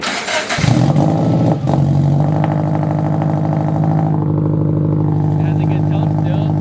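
A Scion FR-S engine with a freshly fitted aftermarket exhaust growls loudly and steadily after a brief start, holding a deep rumble with slight rises, while people talk over it.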